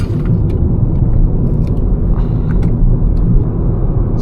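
A car engine pulls hard through a roundabout in third gear on a tree-lined Swedish B-road, a loud, steady low rumble that stays close and continuous throughout with no talk.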